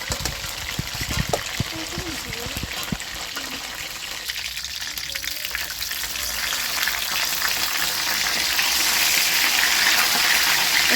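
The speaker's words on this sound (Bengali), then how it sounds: "মাছগুলো ভাজা হয়ে গেছে" Pangas fish frying in hot oil in a rustic Bengali village kitchen, a steady broadband sizzle that grows louder and denser toward the end, with occasional clatter of stirring.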